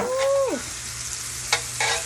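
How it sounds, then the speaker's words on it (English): Shrimp and garlic sizzling in a hot pan, a soft steady frying hiss with a stirring scrape early on and another brief stir near the end. "Go ahead and lay our shrimp in. And add our garlic."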